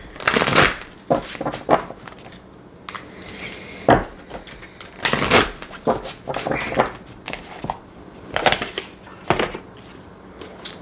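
A tarot card deck is shuffled by hand in a quiet room, giving repeated bursts of riffling and slapping card sounds, some soft and some sharp, spread across the whole stretch without any talking.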